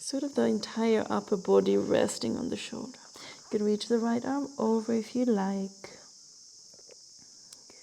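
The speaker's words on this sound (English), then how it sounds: "I wonder if you can hear the cicadas in the background." Cicadas keep up a steady high, thin buzz in the background through a calm yoga class while an instructor talks over it, and the buzz continues alone after the voice stops.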